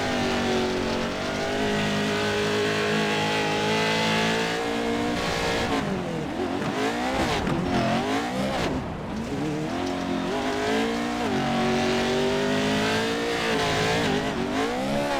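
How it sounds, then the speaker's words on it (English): A race car engine in an online racing league drones loudly and continuously, dipping and bogging as it launches out of a turn, then climbing again through repeated pitch sweeps with no one talking. "Listen to the way he lets the engine bog to maintain traction and get a good launch out of that turn."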